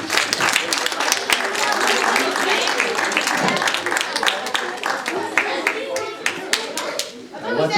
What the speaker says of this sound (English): A round of applause for Kang.